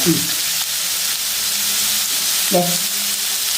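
Ingredients sautéing in a pan for bread upma made from leftover bread, with salt added, give a steady close sizzle and frying hiss throughout, with a brief voice or stir sound near the start and again later.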